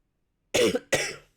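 Two sharp, close coughs in quick succession from someone with a painfully sore throat, each burst harsh and rasping, with silence before them.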